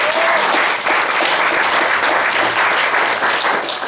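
Loud, sustained applause from an audience at a San Francisco remembrance event, honoring lion dance performers; continuous dense clapping throughout.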